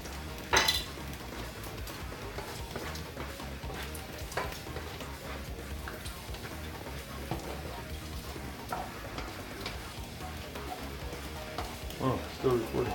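Bacon frying in a pan for the Filipino dish ginisang mais: a continuous low crackling sizzle with occasional clinks and stirring scrapes, close and fairly quiet, with faint voices now and then.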